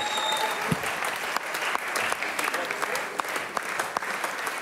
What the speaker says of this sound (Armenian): Եկեք ծափարենք Գարիկին